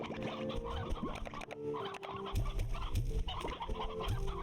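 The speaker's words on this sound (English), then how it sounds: "The old rooster." A crowded flock of chickens with a rooster clucking and squawking close up, overlapping calls with a few louder bursts toward the end.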